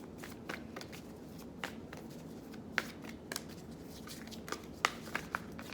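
A Moonology oracle card deck is shuffled by hand, a soft steady riffle of cards with several sharper snaps and taps near the end, close and quiet with no talking.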